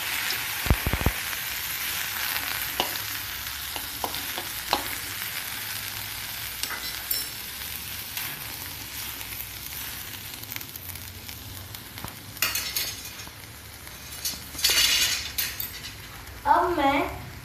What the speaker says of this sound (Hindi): जैसे हम बटर डालें हमें उसमें टमाटर और मिर्ची को डाल देना है।